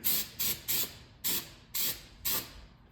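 A pressurized spray can fires onto a car panel in six sharp, loud hissing bursts with short pauses between them, close up and with no talking.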